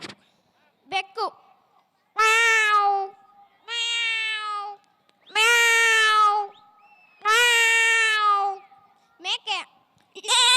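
A voice imitates a cat, giving four drawn-out, loud meows in a steady rhythm with brief vocal sounds before and after, performed as mimicry at a children's festival.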